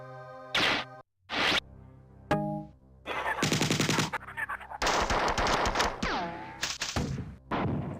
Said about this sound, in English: they also shoot at me